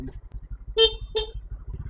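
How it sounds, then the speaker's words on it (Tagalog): Two short car horn honks, the second slightly shorter, over a low idling engine rumble. "Businahan lang muna natin."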